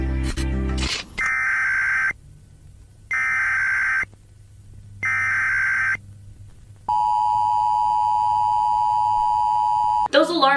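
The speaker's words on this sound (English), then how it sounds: "Those alarm sounds never mean anything good though." Three identical steady electronic beeps in a row, each about a second long with pauses between, then a long sustained lower emergency weather warning alarm tone, loud and close.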